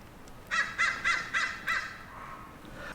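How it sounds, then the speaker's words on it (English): Crows cawing loudly near an outdoor spot where a truck fuel tank skid plate is being installed, five harsh caws in a quick even series, then quiet. "crows are going crazy right now"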